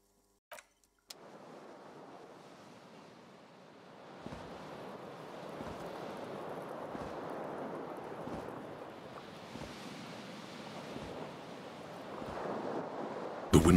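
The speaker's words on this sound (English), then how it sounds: "Cold wind blows in." Cold wind blowing in through a broken window in the game Disco Elysium, a low, steady rushing drone that starts after a couple of faint clicks, gusts softly with slight swells and grows a little stronger toward the end.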